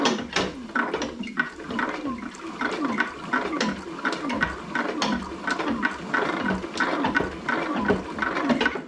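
Liquid runs out of a tube into an old Ford Model A Doodlebug engine that sat for 40 years, a continuous close trickling and gurgling with faint clicks, no talk.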